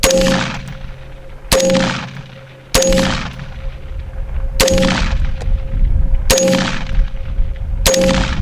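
An FN PS90 rifle fires at a steel target outdoors: six sharp, loud reports spaced about a second apart, each followed by a ringing metallic clang that decays slowly.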